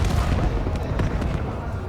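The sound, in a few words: grenades exploding in video game Call of Duty Black Ops 7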